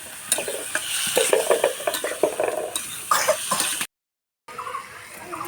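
Pumpkin and potato pieces are stirred and fried in a pan, with a spatula scraping and clattering in irregular strokes over a soft sizzle, then a brief pause before quieter stirring resumes.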